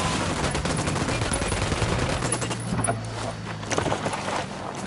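Rapid gunfire from the tactical shooter video game Ghost Recon, dense overlapping bursts with a constant low rumble, continuous and loud throughout.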